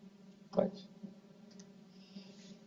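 A single sharp computer mouse click, close and distinct, followed by quiet room tone.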